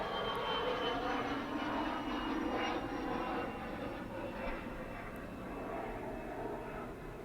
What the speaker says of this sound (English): plane flew by very close